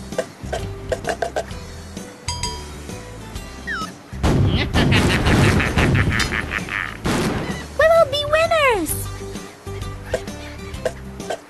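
Cannon fire in a cartoon Hippo pirate treasure-hunter game for kids: booming shots and a long rumbling blast, mixed with ticking effects, playful whistling sounds and game music, while voices speak over it.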